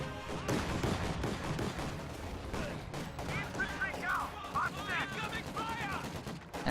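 Panzer II tank fire at conscripts in a video game, dense rattling gunfire and distant explosions running continuously under a commentator's voice.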